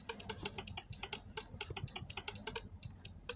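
Fast, quiet clicking of computer keyboard keys during a Word Bomb word game, irregular bursts of close tapping running continuously with no talk.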